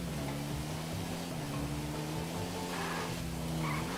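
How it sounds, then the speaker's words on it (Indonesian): A motorbike engine in the video game GTA V, during roleplay, drones steadily with a rising and falling pitch over constant background noise. "Ini suara motornya emang begini dah."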